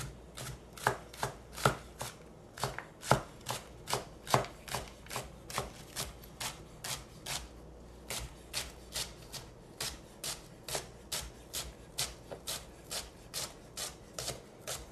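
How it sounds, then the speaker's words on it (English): Fresh leeks sliced with a knife on a cutting board, a long run of crisp, evenly spaced chopping strokes at a steady rhythm, close and clear with no talking. "And we're just going to slice."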